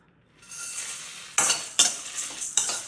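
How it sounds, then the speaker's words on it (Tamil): Chillies, fenugreek, rice and coriander are dry roasted in a pan for a coconut curry. Quiet at first, then a spoon gives three or four brisk, close scraping strokes, each with a rustling hiss, and no speech. "3 மினிட்டு ட்ரை ரோஸ்ட் செய்யணும்"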